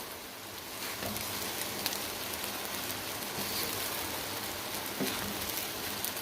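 Half-boiled rice being stirred and mixed in a hot pan gives a steady, fairly quiet sizzling hiss with soft scraping pulses, and no voices.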